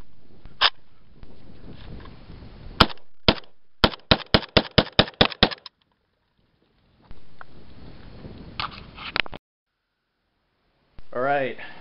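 Sharp, loud gunshots from an AK-47 style WASR-10 rifle: a single shot, a few spaced shots, then a rapid string of about ten evenly paced shots, followed after a pause by more noise and a burst of voices.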